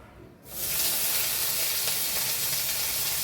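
Chopped onion hits hot mustard oil in a kadai already holding panch phoron, dried red chilli and bay leaf, bursting into a loud, steady sizzle that fills the rest of the clip after a brief quiet start.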